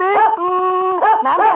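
A dog howls in a Tamil comedy film scene: a loud, close, wavering howl that bends up and down in pitch, with a brief break around the middle before it swells again.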